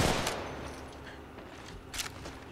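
Gunfire in the mobile battle royale Apex Legends Mobile, a few fairly quiet shots at the start and another burst near the end over a low steady game hum, with no talking.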